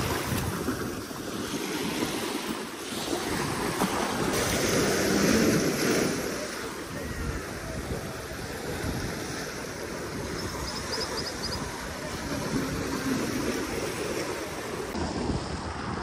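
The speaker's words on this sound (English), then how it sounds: "I can't lie, the waves is going crazy." Ocean waves surge and wash against a Carnival cruise ship at sea, a steady rushing roar mixed with wind buffeting the microphone, with people talking faintly.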